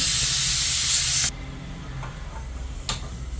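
A loud sizzling hiss of mustard seeds frying in hot coconut oil, cutting off abruptly and leaving quieter crackles and pops.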